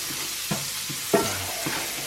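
Shallots sear and sizzle in a hot pan, a soft steady crackle broken by a few brief clinks or stirring knocks, close by with no voices.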